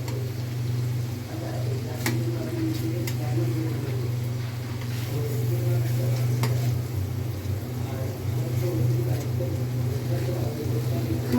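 Hilsa fish sauté in an oily pan with a steady, continuous sizzle and soft stirring scrapes throughout, close and even in loudness, with no talking.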